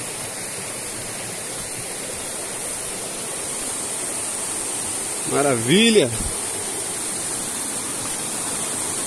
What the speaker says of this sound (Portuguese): já tem uma quedinha d'água já